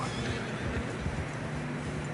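A tired horse whinnies loudly and close on a narrow trail through fresh snow, with muffled hoof steps shuffling beneath, no talk.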